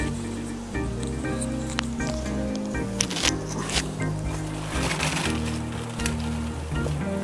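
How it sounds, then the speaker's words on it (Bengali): Malabar spinach goes into a hot pan with prawns, giving a wet, crackly rustle and squishing as the leaves settle and are moved about, with scattered sharp pops over a low continuous sizzle. "শাকটা দিয়ে দিচ্ছি।"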